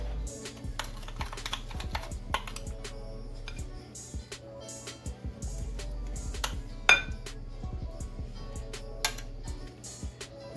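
A spoon scrapes and clinks against a bowl while cinnamon roll icing is stirred, giving steady irregular tapping and clattering close by, with no voices.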